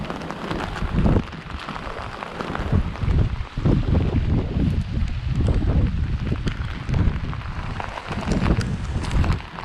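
Strong Tropical Storm Elsa wind buffets the microphone at Red Rock Park in Lynn, Massachusetts, with heavy surf churning steadily beneath, loud and continuous after a downpour, with no talking.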